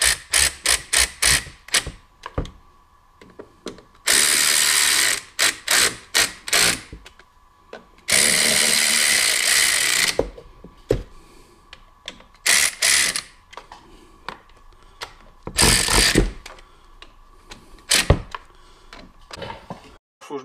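A hand ratchet tightening clutch cover bolts on a vehicle with a leaking fuel line and broken cover gasket, making close, rapid clicking bursts, with several long runs of continuous ratcheting between short spurts, and no voices.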